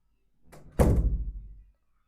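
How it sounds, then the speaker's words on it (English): A door's handle is twisted and the door is pulled open, a short click followed by a heavy wooden thunk and brief rumble, close and alone in a quiet room. "you have successfully learned how to open a door properly"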